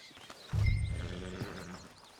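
A horse in the Western video game Red Dead Redemption 2 lets out a loud, close whinny and snorting breath that swells quickly and then tails off, with faint ambient game sounds behind.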